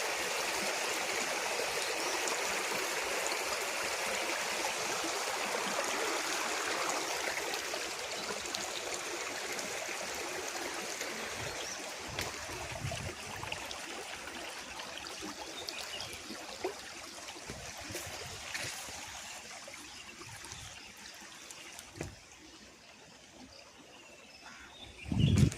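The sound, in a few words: forest stream flowing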